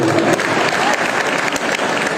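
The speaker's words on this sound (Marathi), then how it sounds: "तुम्ही स्वतःसाठी एकदा जोरदार टाळ्या वाजवा" Strong, continuous applause from an audience for students at a college arts festival prize event, dense clapping filling the hall without a break, with a faint crowd murmur beneath.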